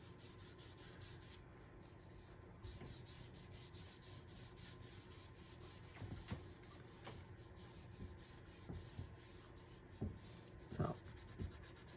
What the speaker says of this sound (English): I'm going to rub my finger across there